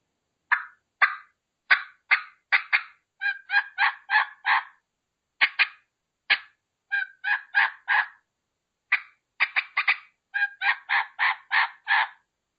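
A turkey hunting call imitates a hen turkey with bursts of sharp cutting clucks and rhythmic yelps, repeated in quick clustered series with short pauses, loud and close.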